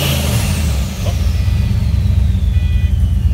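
A car engine held at the rev limiter using a transbrake and two-step, a loud, steady, rapidly pulsing drone with a brief dip before settling into choppy limiter bursts, no speech.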